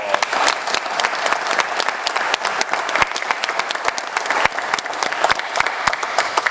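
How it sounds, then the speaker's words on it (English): Audience applause at a school board meeting for retiring staff of Mount Vernon City Schools, a steady, dense round of many hands clapping close by, with a few sharp individual claps standing out and no voices. "So if we could give all of them a nice round of applause."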